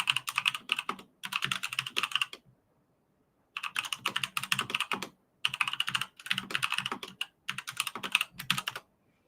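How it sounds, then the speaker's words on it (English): Computer keyboard typing in four quick bursts of rapid clicking, separated by short pauses, close and clear with no talking. "Let's see if I can talk and type at the same time."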